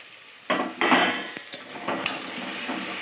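Pieces of ivy gourd frying in a pan for a masala curry, stirred with a utensil: scraping clatters and knocks against the pan over a light sizzle, close by, no talking.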